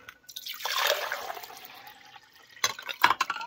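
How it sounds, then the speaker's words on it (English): Water is poured into a beaker, a soft splashing trickle that rises and fades over about two seconds, followed by a few louder clinks and drips near the end. "I'm going to pour this water in here for a second."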